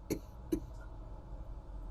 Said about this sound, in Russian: Кто кашляет?